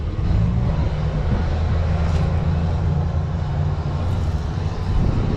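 An eight-wheel farm tractor built for hauling sugarcane trailers runs with a loud, steady low engine drone, continuous and close throughout.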